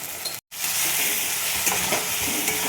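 Ground chili, coriander, cumin and turmeric with salt sizzle in an oiled pan, a loud, continuous hiss broken by one brief silent cut near the start, with soft stirring scrapes through the frying.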